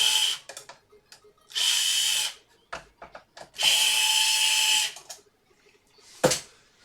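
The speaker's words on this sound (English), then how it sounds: "I'm getting the screws out by this IKEA drill." An IKEA power drill backs screws out during a repair, with two sustained whirring bursts and a short final spin separated by small clicks and handling noises.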